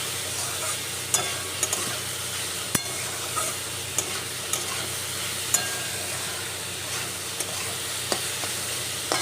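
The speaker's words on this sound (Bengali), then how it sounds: "লবণ হলুদ দিয়ে এটাকে সুন্দর করে ভাজবো" Ingredients sizzle in a pan with salt and turmeric, a steady hiss punctuated by sharp spatula clicks and stirring scrapes at irregular intervals.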